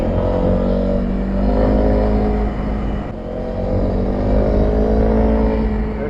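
A Honda CRF300L engine drones steadily and loudly throughout an off-road ride on trails and gravel, with the pitch rising and falling as the throttle changes and a brief dip in the middle.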